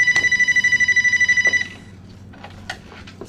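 A telephone rings with a rapid trilling electronic bell in one loud burst of about a second and a half, then stops, leaving quiet room tone with a few soft knocks.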